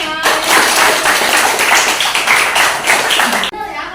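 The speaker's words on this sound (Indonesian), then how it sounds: "Beri tepuk tangan untuk temannya." A class claps hands for a classmate during a food-education lesson, a lively burst of close, sharp clapping that runs for a few seconds and stops abruptly, with a voice briefly audible at the end.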